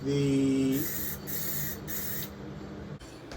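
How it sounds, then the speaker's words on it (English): A spray can hisses in several short, even bursts with brief gaps between them, close by, after a short low tone at the start. "You want to spray light coats as much as possible."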